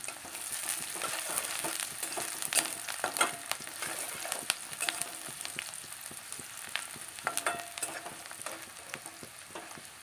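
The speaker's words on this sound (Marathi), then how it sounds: "आता आपण हा मध्यम आकाराचा चिरलेला कांदा यामध्ये टाकू कांदा चांगला भाजेपर्यंत त्याला परतत राहायचं" Medium-sized chopped onion fries in hot oil in a pan, a continuous close sizzle broken by frequent scraping stirs and small crackles throughout.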